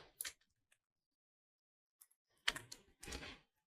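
Keys on a computer keyboard click faintly in a few scattered taps, then a quick burst of keystrokes near the end, with silence between them.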